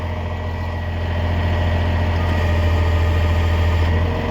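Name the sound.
crane truck engine idling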